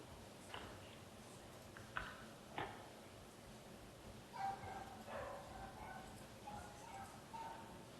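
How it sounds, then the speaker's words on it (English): Dogs bark in the background, a few short distant yips and woofs scattered across the clip, faint under a quiet room tone. "Sorry about the dogs in the background."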